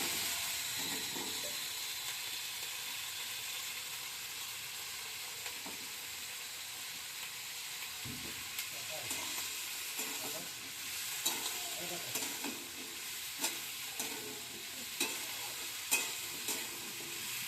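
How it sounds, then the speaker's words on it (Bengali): Cauliflower and carrot fry in oil in a pan with turmeric, giving a steady sizzle and hiss throughout while a utensil stirs and scrapes with light, irregular clinks that come more often toward the end. "গাজর আর ফুলকপিটা তো অনেকটাই ভাজা হয়ে গেছে"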